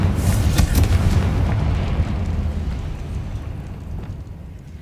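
A Confringo blast spell explodes in Hogwarts Legacy with a loud, booming burst that rumbles heavily at first, then gradually fades over several seconds.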